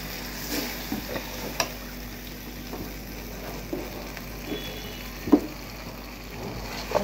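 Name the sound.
fried potatoes added to sizzling spice masala in pan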